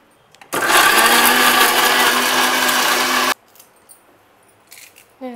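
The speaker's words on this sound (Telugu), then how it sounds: "ఇదైతే మిక్సీ ఆడేసుకుందాం" A kitchen mixer grinder whirs loudly and steadily for about three seconds, then cuts off abruptly, leaving faint background noise and a few small clicks.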